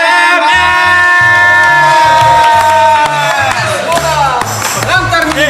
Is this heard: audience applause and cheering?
yes